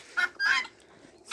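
Farm chickens and other poultry clucking nearby, two short loud clucks in quick succession, then a quieter pause and another call starting at the end, with no talking.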